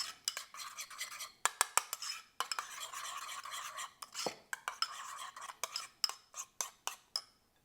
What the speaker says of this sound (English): We mix it.